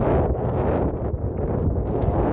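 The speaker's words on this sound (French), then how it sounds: "Et il y a du vent." Outdoor wind buffets the microphone in a steady, loud low rumble with gusting swells throughout, with no speech over it.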